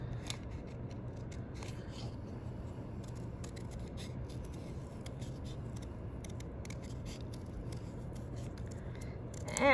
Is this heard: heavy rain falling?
no